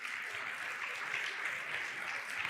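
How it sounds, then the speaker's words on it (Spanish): A congregation at a church sermon claps together in a dense, even wash of applause that holds steady throughout, without talk over it. "demos un aplauso al Señor."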